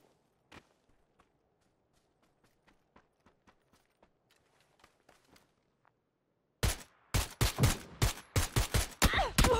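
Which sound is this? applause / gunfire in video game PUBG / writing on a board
gunfire in video game PUBG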